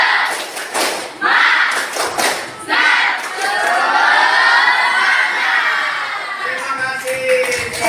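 A classroom of students performs the 'tepuk semangat' chant, rhythmic claps and thumps mixed with loud shouted voices in unison, lively and close throughout.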